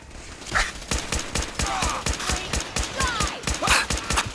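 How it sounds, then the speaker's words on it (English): A Gatling laser in Fallout 4 fires a fast, even stream of sharp pulses, close and steady, with warbling electronic tones mixed over the shots. "Another guy with a Gatling laser."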